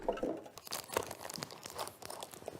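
Plastic film being peeled off pressed plastic packaging, heard as a run of close, irregular crinkling and tearing bursts with short pauses between pulls.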